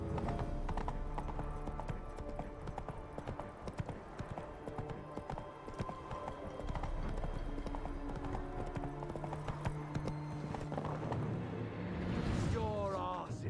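Roach the horse galloping in The Witcher 3, a fast continuous run of hoofbeats with a whinny near the end, under game music and speech.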